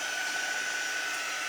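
A hair dryer blows steadily on a personalized door round, a continuous close whooshing hum with a faint whine, with no talking.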